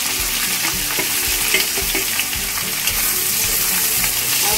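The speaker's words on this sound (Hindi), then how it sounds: "गोल्डन ब्राउन होने पर भून लेंगे, गैस का फ्लेम लो रखेंगे।" Sliced onions, four dried chillies, garlic and a bay leaf fry in hot oil for chicken biryani, producing a dense, continuous sizzle with faint occasional stirring knocks, loud and close.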